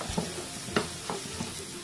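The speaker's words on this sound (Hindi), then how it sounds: "अब हम इसे अच्छे से फ्राई करेंगे, जब तक इसका कलर चेंज होके थोड़ा ब्राउन कलर ना आ जाए जब तक हम इसे फ्राई करेंगे।" Brinjal masala fries in a pan while a spoon stirs it, a soft steady sizzle under a few light scraping clicks of the spoon against the pan.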